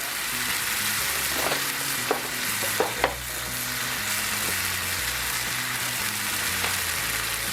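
Shredded cheddar and gruyere cheese being stirred in a hot cast iron skillet: a steady, close sizzle with a few sharp scraping clicks from the utensil around the middle, and no voices.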